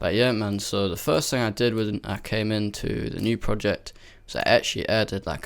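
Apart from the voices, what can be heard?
None of the usual background noises is heard.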